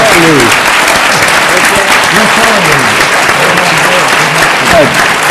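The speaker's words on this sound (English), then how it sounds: "could you join me in a rousing round of applause?" Loud, rousing applause fills a room at a Florida governors' roundtable, with voices talking over the continuous clapping throughout.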